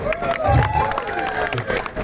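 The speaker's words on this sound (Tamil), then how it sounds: "நீங்களே உங்களுக்கு ஒரு கைத்தட்டல் போட்டுக்கலாம்" A fan-event audience claps and cheers in a lively, continuous burst of crowd noise, with voices and chatter mixed through it at a steady level.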